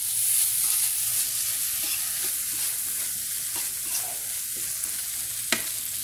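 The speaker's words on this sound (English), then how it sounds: "I'm gonna stir this down." Bacon egg fried rice sizzles steadily in a frying pan, close and continuous, with soft stirring scrapes and one sharp clink near the end and no voices.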